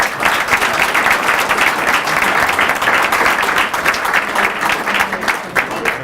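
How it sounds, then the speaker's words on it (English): Sustained applause from a community event audience honoring a panel, dense steady clapping from many hands filling the room, loud and continuous with a faint murmur of voices underneath. "Can we have a round of applause for everybody?"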